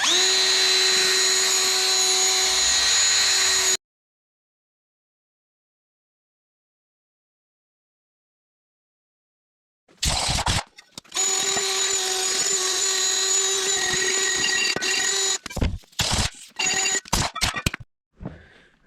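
A power tool whines steadily while roughing up a Toro TimeCutter zero-turn mower wheel rim, running in one sustained burst, pausing in silence, then resuming with several short stop-start bursts.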